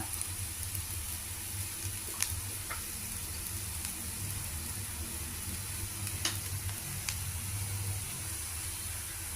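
Bitter gourd fry with sesame chili powder is stirred in a pan, giving a quiet, steady sizzle with a few sharp scraping clicks from the spoon. No voices are heard.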